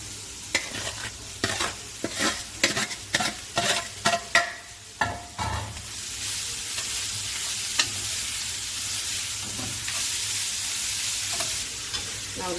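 Peppers frying in a pan for chakalaka, with sharp scraping stirs in an uneven rhythm over the first half, then a steady loud close sizzle alone.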